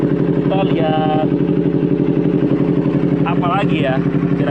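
A used Yamaha R25 motorcycle engine runs steadily at idle, loud and close with a constant low throbbing drone, while someone talks over it at times.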